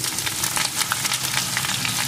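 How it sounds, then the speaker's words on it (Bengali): Chopped onion fries with garlic in a pan, making a loud, crackling sizzle that stays close and steady, broken by quick stirring scrapes, with no speech. "পেঁয়াজ কুচিটাকেও একটু ভেজে নেব।"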